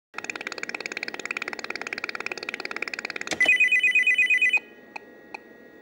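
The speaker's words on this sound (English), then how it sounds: "load up Monopoly so that we can see that play and listen to the nice sound effects" Monopoly running on a Tandy 1000 HX computer gives off electronic game beeps. First comes a rapid string of short, even tones, then a louder run of sustained chiming notes, and two faint single blips follow after a pause.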